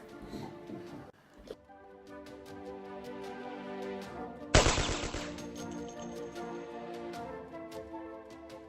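A forester's gunshots crack out in a sudden burst midway through a stretch of soft background music in a Little Red Riding Hood film, then fade back under the melody.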